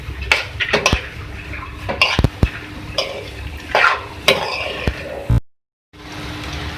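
A spoon stirs salt and spices into mash dal in a cooking pot, giving close, irregular scrapes and sharp metallic clinks with soft wet sloshing between them.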